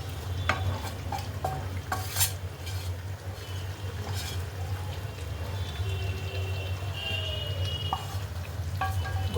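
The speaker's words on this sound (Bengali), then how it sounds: "এবার এইটা দিয়ে দেব, ভেজে রাখা পেঁয়াজ ক্যাপসিকাম আর দুটো চারটে কাঁচা লঙ্কা" Chicken stir-frying in a pan with fried onion, capsicum and green chillies, a low, steady sizzle with scattered spatula scrapes and clinks close by, no one speaking.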